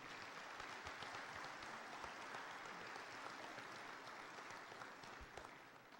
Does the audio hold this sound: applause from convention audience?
yes